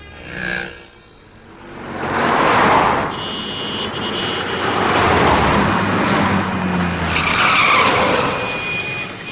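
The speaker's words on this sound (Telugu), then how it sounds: "మనకి ఎప్పుడు అవసరమో అప్పుడే ఇలాంటి ట్రాఫిక్ జామ్లు అవి అవుతుంటాయి" Traffic jam noise of many cars on a road, a dense, loud wash of engines and tire skids with swelling surges and a faint horn-like tone, no talk.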